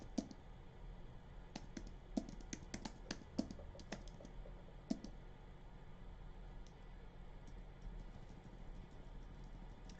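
Scattered keystrokes tap on a computer keyboard, clustered in the first five seconds and thinning out later, fairly faint over a steady low hum, with no talk.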